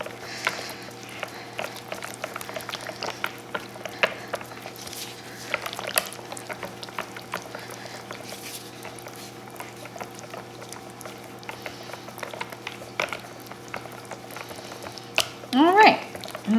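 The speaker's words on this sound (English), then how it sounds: "Now we'll just get this one whisked." Lemon eucalyptus soap mixture is whisked in a bowl, giving a faint, continuous wet stirring texture with soft scattered taps at a steady level.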